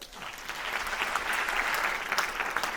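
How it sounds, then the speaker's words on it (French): An audience at a talk applauds continuously, a dense, steady wash of many hands clapping that swells slightly and holds for the whole stretch. "je vous demande, mesdames et messieurs, d'applaudir Antoine Anglade."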